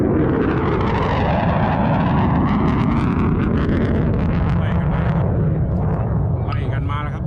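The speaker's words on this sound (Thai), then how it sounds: "ขับไล่ครับเครื่องบินขับไล่ครับของทัพสหรัฐ" A US Air Force fighter jet roars past at an air show at an Air Force base near Las Vegas, a loud continuous broadband rush that shifts in pitch as it passes close by.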